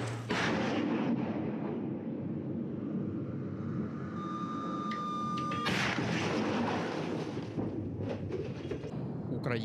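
Igla shoulder-fired anti-aircraft missile launched in a combat zone, a loud sustained rushing roar with booming blasts and a whistling tone, heavy and continuous throughout.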